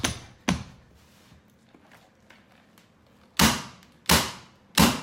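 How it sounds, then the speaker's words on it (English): An electric tacker fires staples into a carpet tack strip at a transition to marble floor: five sharp, loud, close shots, one early, then a pause, then three in quick succession near the end. "I'm going to take my electric tacker, I'm going to shoot it right onto the tack strip there."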